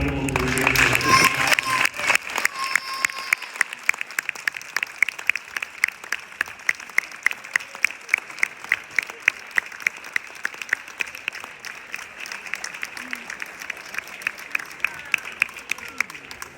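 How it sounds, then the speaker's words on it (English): An audience gives a big round of applause at a career celebration, dense clapping that starts loud and thins into scattered individual claps, with some cheering and voices in the mix. "let's just give one last big round of applause to the incredible career"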